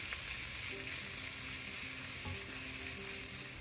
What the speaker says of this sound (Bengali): পেঁয়াজ কুচিটাকে দিয়ে এটা হালকা বাদামি রং করে ভেজে নিতে হবে।